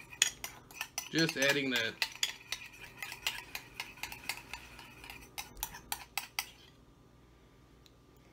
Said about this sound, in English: We'll go ahead and mix that one up.